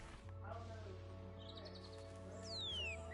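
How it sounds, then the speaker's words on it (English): Birds in Lost Records: Bloom and Rage chirp and trill faintly over a steady low ambient hum, with a few short calls and a sweeping whistle near the end. "I'm guessing these are the birds."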